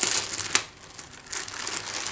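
Close, soft crinkling of plastic wrapping being opened from a diamond art canvas, a few crisp rustles and a sharp snap early on, then quieter shuffling.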